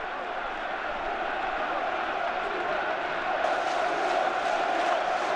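Football fans at Pacaembu stadium during a Brazilian Série A match shout Leandro Damião's name, a dense, sustained crowd roar that swells slightly toward the end, with a commentator's voice running over it.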